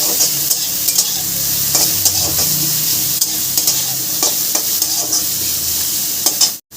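Chopped beans and carrots fry in a pan under a loud, continuous sizzle. Soft stirring scrapes rise above it every so often.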